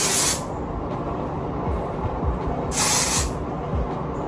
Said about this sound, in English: I'm using the Batiste dry shampoo